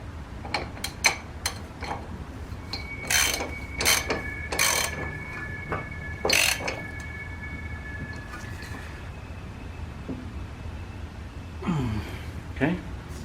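A ratchet tightening the inner tie rod end on a 6th-generation 1996–2000 Honda Civic gives a few sharp, short clicking bursts close by, with a faint metallic ring and a person talking in between.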